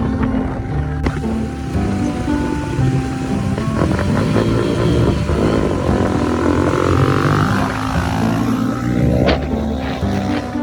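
A motorcycle engine revs and idles loudly nearby behind an old school, its choppy, uneven roar continuous throughout, with some wind-like noise mixed in and no clear talk.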